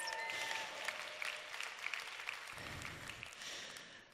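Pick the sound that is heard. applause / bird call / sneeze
applause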